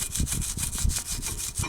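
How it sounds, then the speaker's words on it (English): A wire brush scrubs a rusty brake caliper support bracket on a 2014 Mini Cooper, a fast, steady run of harsh, close back-and-forth strokes with no pauses. "you can just hit that really well with a wire brush"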